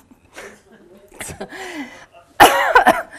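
A loud cough bursts out near the end, a short harsh cluster after quieter talk and a chuckle earlier on.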